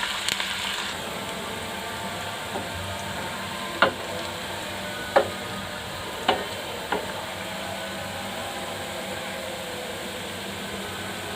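Onions fry in a pan until light brown, giving a steady soft sizzle with a few sharp scrapes or taps of a stirring utensil partway through. No one speaks.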